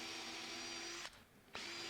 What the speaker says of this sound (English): it was just a matter of securing the jig inside the case and drilling the holes